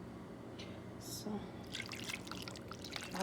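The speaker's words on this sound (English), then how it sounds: "I'm adding water." Water pours and drips into a cooking pot holding a blended onion, garlic, ginger and herb mixture, light splashes and trickles over a steady background hum.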